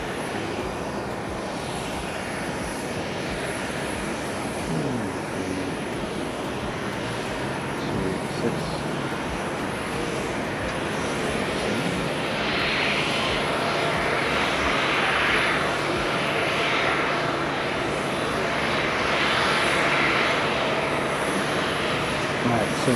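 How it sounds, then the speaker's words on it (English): A China Southern jet airliner lands at Haneda airport, a steady loud roar of engine and rushing air that builds slightly over the whole stretch, heard from a distance outdoors. "So he's landing on D."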